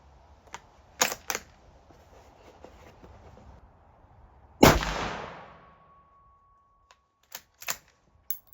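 A loud, sharp shot from a Gen 2 Ruger American Ranch 5.56 rifle with a muzzle brake, a blasting crack and a short decaying echo, preceded and followed by small mechanical clicks and clunks, no talking.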